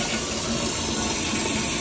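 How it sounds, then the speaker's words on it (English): A Fluidmaster-fitted toilet flushes on a weaker, water-saving setting, with a steady close rush of water draining and refilling for the whole stretch and no talk. "It's a weaker flush, but a way to save water."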